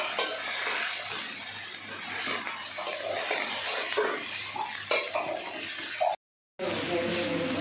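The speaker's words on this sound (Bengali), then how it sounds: "এবারে সবশেষে আমি বাঁধাকপিটা দিয়ে নেড়ে নিচ্ছি" Vegetables, soybean chunks and cabbage being stirred in a pan, a spatula scraping and clinking against metal over a light sizzle, with someone speaking throughout and a brief silent gap near the end.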